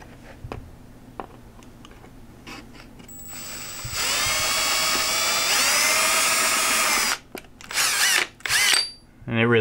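A power drill whines loudly and steadily for about three seconds as it bores through deer skull bone, then stops with a few short bursts after.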